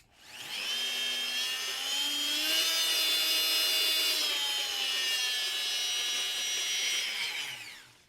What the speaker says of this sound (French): je vais quand même le mettre en route, donc bouchez-vous les oreilles. Et regardez, je vais monter la puissance au fur et à mesure, et vous allez voir la différence de bruit